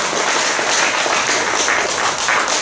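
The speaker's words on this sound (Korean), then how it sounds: "우리 그를 위해서 박수 한번 칩시다." A church congregation claps for the band after a special performance at a Wednesday worship service, a dense, loud, continuous applause from many hands filling the room throughout.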